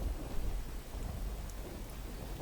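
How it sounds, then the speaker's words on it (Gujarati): Rain pours steadily outdoors in Surat, a faint continuous hiss layered over a low, rolling rumble of thunder, with no voices. "વરસાદ વરસી રહ્યો છે"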